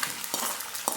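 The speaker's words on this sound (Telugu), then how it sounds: "కరివేపాకు వేసేస్తున్నాను" Curry leaves dropped into hot oil with finely chopped onions for a chicken and amaranth-stem dish, giving a brief bright hiss with a couple of light stirring taps.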